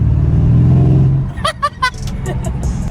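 A brand new car's engine growls low and steady at close range, then cuts away as a few short sharp sounds and some background noise follow.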